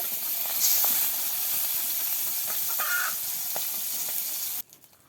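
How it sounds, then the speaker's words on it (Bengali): Chicken liver frying in hot oil in a pan in a village kitchen, giving a steady, close hiss with faint clicks that stops abruptly near the end, with no speech. "এবার মুরগির কলিজাটা ভেজে নিচ্ছে"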